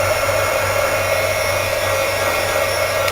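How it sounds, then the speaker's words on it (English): A heat gun blows over hot glue on a small art card with a steady, loud whooshing roar and a constant motor hum, unbroken for the whole stretch, with no voices. "I hope y'all can hear me over the heat gun."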